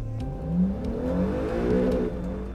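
Acura NSX engine being revved during break-in, a mid-pitched engine rising and falling in a smooth sweep, steady and moderately loud with no talk.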